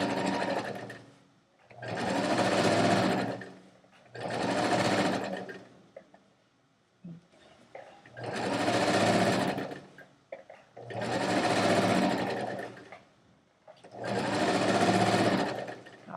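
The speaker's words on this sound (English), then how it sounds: "So it's just sew, pause, organize, sew, pause, organize." A sewing machine stitches a strap in five steady runs of rapid whirring, each lasting a couple of seconds and separated by quiet pauses with light handling noises.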